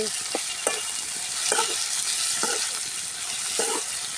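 Onions and green chillies frying in a pan for pea kurma, a close, steady sizzle broken by regular scraping strokes of a spoon about once a second, with no talking.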